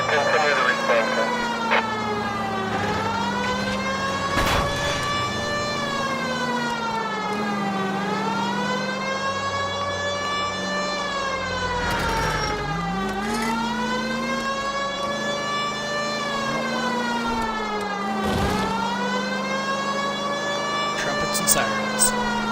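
Video game sirens in L.A. Noire wail, rising and falling continuously in long sweeping cycles, loud and steady, with a low drone and occasional thumps beneath.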